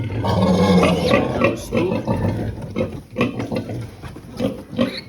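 Piglets squeal and grunt loudly and close by during teeth grinding on a pig farm, in a dense, overlapping chorus of shrill cries that rises and falls.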